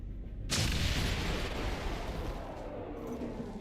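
A video game explosion in XCOM 2 bursts in suddenly, then rolls into a long, loud, rumbling blast that fades only slightly over a few seconds.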